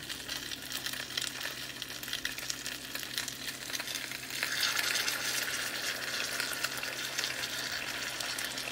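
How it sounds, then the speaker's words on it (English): Buffalo barbecue sauce poured onto a hot pork chop sizzles and fries steadily and close, growing louder and brighter about halfway through. "it's going to start sizzling my pork chop"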